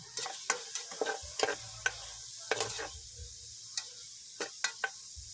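Garlic, onion and ginger fry in a pan as a utensil stirs, with sparse scraping taps and clicks over a low sizzle and faint hum, quiet and close with no voice.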